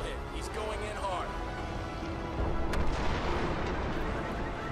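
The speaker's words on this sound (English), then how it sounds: "Firm missile hit. He's going in hard." Missile strike explosion in Crysis 2, a rumbling blast with crackling debris heard beneath radio chatter and voices, sustained and moderately loud.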